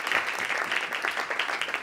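Brief applause from a conference audience on soil science, a steady wash of clapping throughout, fairly close and even in level.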